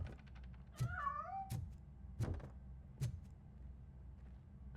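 A cat meows a few times over a low background hum, with sharp clicks and knocks around the calls.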